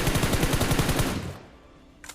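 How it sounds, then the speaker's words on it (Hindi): Rapid automatic gunfire from PUBG Mobile rattles in a loud, dense burst for about a second before cutting off, leaving a quiet tail and one faint sharp shot at the end. "और तभी एक और बंदा हम लोग पे फायर देता है"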